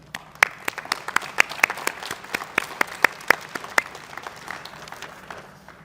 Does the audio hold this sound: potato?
no